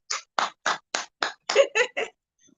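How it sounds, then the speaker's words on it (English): A man claps his hands for himself, eight sharp, evenly spaced claps in quick succession, close and alone with no talking. "Let me clap for myself."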